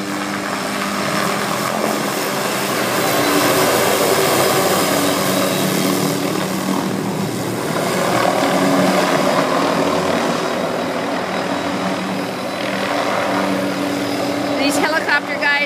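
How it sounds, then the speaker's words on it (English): Firefighting helicopters making water drops over a Kona brush fire, heard as a steady rotor and engine drone from close overhead that runs through the whole stretch while a person talks over it. "These helicopter guys are moving really fast."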